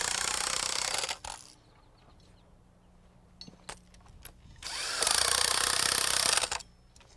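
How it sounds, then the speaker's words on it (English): An impact wrench drives nuts down onto bolts fastening mud sills, two loud rattling bursts of hammering, one at the start and another longer one later, with quiet clinks and handling noises in between. "I like to tighten them down with an impact wrench"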